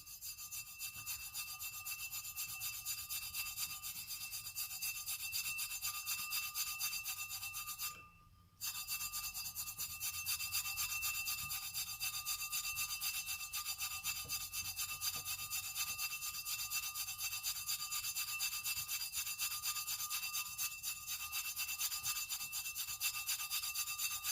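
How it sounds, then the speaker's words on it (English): Steady hand rubbing of Aileen's Tack It Over and Over glue off a surface, a continuous close scratchy friction that runs almost without pause, with one brief stop partway through. "Some rub it off. Let's start with the rubbing."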